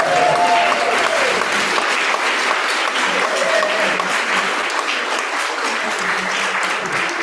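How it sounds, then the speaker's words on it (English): Dense, steady applause from a poetry slam audience in Ireland, filling the whole stretch at a fairly loud level with a faint voice briefly showing through the clapping. "Give him a round of applause on the hill."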